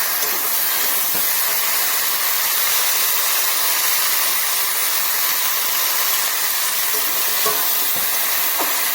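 Kohlrabi frying in a pan for a Bengali curry with green peas, a loud, steady sizzling hiss with occasional faint utensil clicks.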